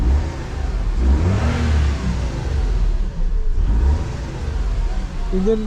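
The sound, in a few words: Suzuki Khyber car engine running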